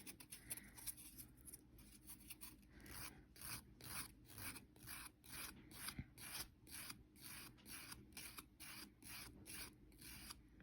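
A nail file rasps back and forth across a natural fingernail during nail preparation, a quiet, close series of rapid, evenly spaced scratchy strokes repeating throughout.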